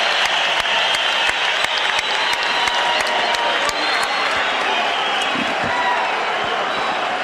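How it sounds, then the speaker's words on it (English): Large boxing arena crowd roaring with applause and cheers at the close of the Mexican national anthem before a title fight, a dense continuous wash of noise with sharp claps popping through and some voices mixed in. "listen to this crowd as they finish the Mexican national anthem"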